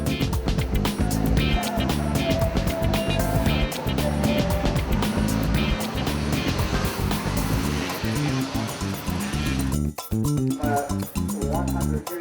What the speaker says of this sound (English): This is my original motocross bike I bought in '73. It's a Java CZ, 382cc, 42 brake horsepower.